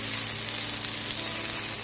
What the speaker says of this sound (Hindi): शैलो फ्राई करेंगे, not deep fry, only shallow fry